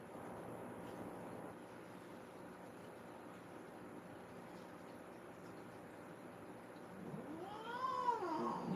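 A cat lets out a drawn-out, wavering caterwaul near the end, rising loud after a long stretch of quiet indoor hum.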